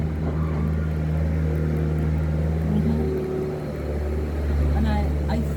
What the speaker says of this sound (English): And I think that's the garbage truck.